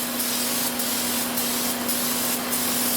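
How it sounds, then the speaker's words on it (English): Steady hiss of an aerosol spray on a Hyundai Santa Fe engine running lean at idle, continuous and fairly loud, with a few brief bursts of stronger spraying and a faint constant hum underneath. "I'm spraying it again."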